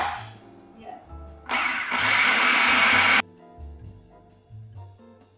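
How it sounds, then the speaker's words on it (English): A blender whirs through a tiramisu mixture for a couple of seconds, a loud steady broadband roar that starts and stops abruptly amid kitchen bustle and low background noise. "Does anyone want to go to the blender?"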